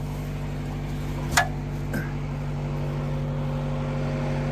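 A Honda Civic engine idles after starting, a steady low hum with faint tonal whine, moderately quiet, interrupted by a couple of short sharp clicks early on.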